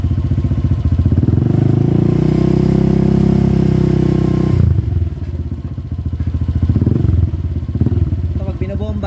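A Honda Click 125 scooter with a power pipe exhaust revs at half throttle, a loud, close, buzzy engine note that swells and holds, then drops back to a fast-pulsing idle, with someone talking over it.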